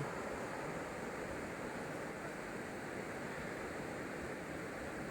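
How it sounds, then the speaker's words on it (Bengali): Steady broadband rush of the Raidak river flowing over rocks at Bhutan Ghat, a constant even roar with no breaks or voices, sounding close. "রায়ডাকের গান শুনছি জলের গান"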